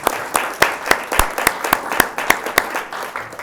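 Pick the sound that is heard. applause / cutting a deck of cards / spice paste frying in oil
applause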